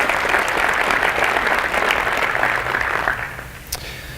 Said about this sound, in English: So round of applause to you guys and your organization.